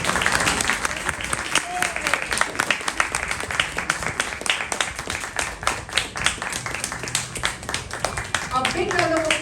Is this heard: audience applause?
yes